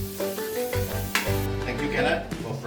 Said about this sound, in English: frying the shallots like this